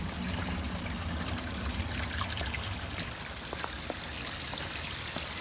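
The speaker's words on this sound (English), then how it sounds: "on that corner over there, we have the bubbler" Water trickling steadily from a bubbler in a corner of a garden koi pond outdoors in November snow, a continuous close splashing dribble with a few brighter droplet ticks.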